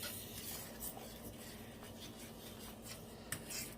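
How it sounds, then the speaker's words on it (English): A fork stirs garlic shrimp alfredo sauce in a pan, giving quiet, continuous scraping and swishing with a faint sizzle, close up and with no talking. "I'm going to keep stirring this off camera."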